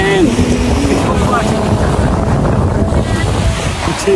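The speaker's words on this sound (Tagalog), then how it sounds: "masyado siyang malakas ang hangin. And talagang malakas ang hampas ng kanyang dagat." Strong wind buffets the microphone while sea waves crash and wash continuously on a beach in Agdangan, Quezon, a loud unbroken roar filling the whole stretch.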